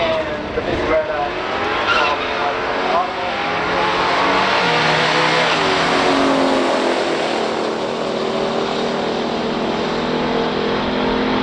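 A 1969 Plymouth Road Runner A12 and a 1969 Chevrolet COPO Chevelle with a 427 and Turbo 400 launch in a stock drag race, loud engines roaring and rising in pitch with tire squeal, continuous and close over crowd noise.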